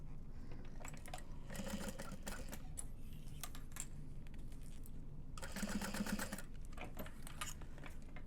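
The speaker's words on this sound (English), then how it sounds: "I'm going to baste this together at a 1/2 inch seam allowance." A sewing machine bastes tote bag fabric panels together at a half-inch seam, its stitching running in steady, quiet bursts with brief pauses between runs.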